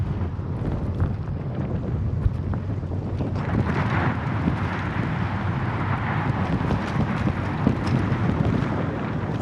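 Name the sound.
wind while cycling along coast road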